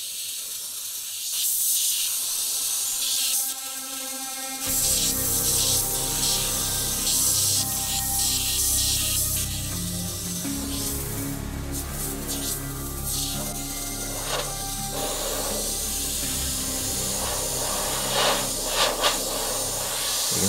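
An airbrush sprays paint in a marble-effect painting session, giving a steady broadband hiss with shifting intensity as the nozzle moves nearer and farther, alongside faint background music-like tones.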